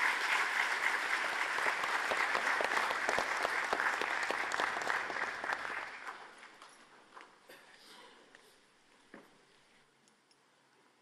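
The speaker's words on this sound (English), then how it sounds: "A warm round of applause, please." Audience applause at the inauguration of an international energy conference with the President of India, a dense, loud burst of clapping for about six seconds that thins out into scattered claps and fades.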